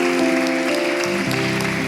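A congregation at a church service applauds, a steady continuous clapping that fills the room evenly for a brief moment with no clear voice over it.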